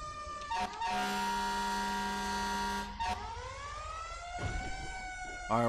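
An emergency vehicle siren in the LSPDFR police game during a fire callout, loud steady wailing tones that break off and restart with pitch sweeps and a short horn-like blast at the end.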